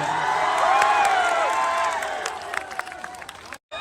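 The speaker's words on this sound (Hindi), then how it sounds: "एक बार चारों तरफ से हाथ उठा के ताली बजा देना भैया" Crowd at an outdoor political rally clapping and cheering, a dense swell of applause with whoops that fades into scattered claps before a brief cutoff.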